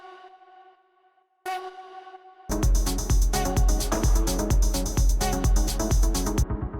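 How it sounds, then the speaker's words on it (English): Short echoing vocal stab sample for deep techno in Ben Klock style, a faint tone tail and a sharp stab, then a loud driving groove with thumping kick and repeated bright hits. "Next sound we have here is this little vocal stab"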